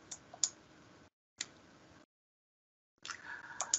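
Faint, sparse computer mouse clicks, a few sharp single ticks separated by stretches of silence, as a button is clicked in Microsoft Access.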